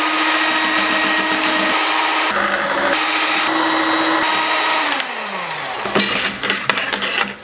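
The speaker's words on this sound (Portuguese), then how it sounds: "Aí você vai bater agora o leite, os ovos e a manteiga." Kitchen blender whirring steadily as it beats milk, eggs and butter for pancake batter, a loud continuous motor drone with a few speed shifts, winding down near the end into clattering handling noises.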